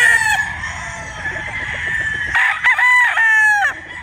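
A Sweater Boston bloodline gamefowl rooster with a pea comb crows loudly and close, one long crow followed by a second broken, wavering crow.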